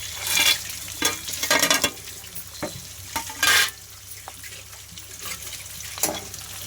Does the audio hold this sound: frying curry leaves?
yes